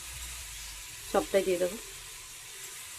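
Ginger, cumin, onion and garlic pastes fry in a pan with a faint, steady sizzle under a woman's brief spoken remark.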